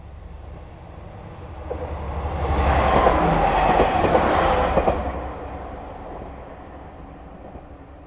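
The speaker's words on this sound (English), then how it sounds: "Luxury train, Aru Resha." The Aru Resha luxury train on the JR Kagoshima Line rumbles past with a swelling roar that builds to a loud peak at mid-passage, the rhythmic clatter of its wheels ringing out before it fades away again.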